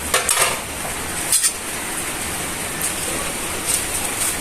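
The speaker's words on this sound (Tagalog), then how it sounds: "Pagkatapos ay haluin natin guys." A spoon clinks and scrapes around a pot of tuna soup with sweet potato leaves, a few light metallic taps over a steady simmering hiss, close and fairly quiet.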